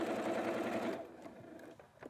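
A sewing machine runs steadily while stitching a quarter-inch seam on quilt binding, then stops after about a second. Faint handling clicks and rustles follow, and the whole thing stays fairly quiet.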